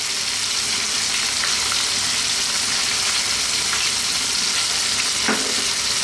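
Tomato paste and roughly chopped ingredients hit a hot pan for an Italian garlic chicken tomato stew, giving a steady, loud, continuous sizzle and fry with a brief sharper crackle near the end, no voices.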